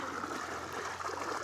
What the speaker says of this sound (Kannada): ಇದು ಹಂಗೆ ತೋಟಕ್ಕೆ ಎಲ್ಲ ಗಿಡಗಳಿಗೂ ನೀರು ಹೋಗ್ತವೆ, ಆ ಥರ ದಾರಿ ಮಾಡಿದ್ದಾರೆ